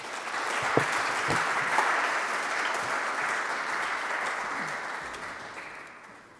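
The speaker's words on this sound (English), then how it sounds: "So please applaud them, and thank you very much for your patience." A conference audience at Conclave 2025 claps in a warm, sustained burst of applause that swells quickly, holds steady, then tapers off toward the end, with no speech.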